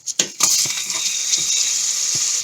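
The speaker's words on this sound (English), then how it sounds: "I'm going to cut the other onion." Several crisp crunching knife cuts through an onion, close and fairly loud, over a constant sizzling hiss of frying in the background.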